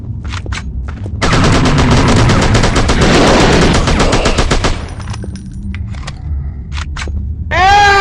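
Rapid shotgun gunfire from the zombie video game Zombie Monsters, a loud sustained burst of blasts lasting several seconds, followed by a few scattered single shots and a rising electronic tone at the end.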